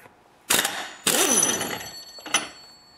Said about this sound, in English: to take the clutch off, I'm going to use an impact with a 19mm socket